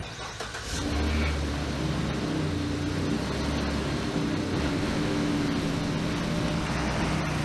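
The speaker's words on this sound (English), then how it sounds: "it started 2 vehicles at the exact same time" Two vehicle engines crank and catch together off a T8 APEX jump starter, with a brief cranking burst followed by a loud, steady, close idle rumble that holds to the end.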